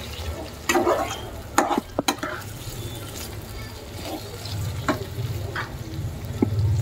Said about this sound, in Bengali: বাটিটা ধুয়ে একটু জলও অ্যাড করে একটু নাড়বো